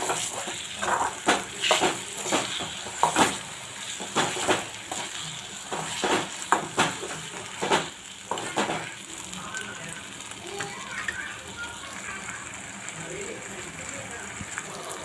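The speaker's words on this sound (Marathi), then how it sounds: "आपण आता भरीत घालून घेऊ. परतून घ्यायचे आहे." Mashed roasted eggplant bharit being sautéed in a pan, a soft sizzle under repeated spoon knocks and stirring clatter that thin out toward the end, with a voice talking over the first part.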